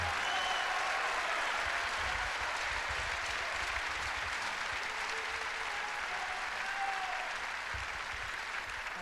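A crowd at a political evening event at the Palageux applauds continuously, a dense, even roar of clapping from many hands that holds steady throughout without talk.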